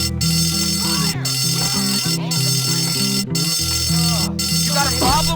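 A school fire alarm in the video game Bully rings continuously, with loud, electronic pulsing cut by short regular gaps, while voices talk and shout over it.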